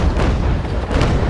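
A brig's cannons fire a broadside in the Naval Action video game, a dense, loud booming roll that rumbles continuously through the brief moment with no gap and no talk.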